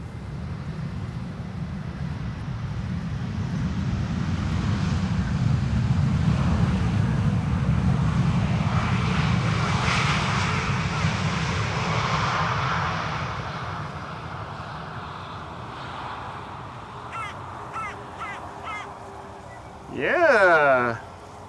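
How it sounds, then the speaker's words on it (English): A Transavia airliner arriving from Ljubljana approaches the Polderbaan runway at Schiphol, its jet rumble swelling to a broad roar mid-clip and then fading, with wind noise and a brief voice near the end. "Transavia arriving from Ljubljana, the capital of Slovenia."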